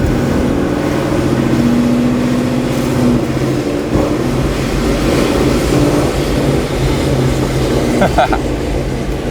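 A loud, steady engine drone fills the cabin of a 1000HP Mustang being driven, and people talk over it throughout.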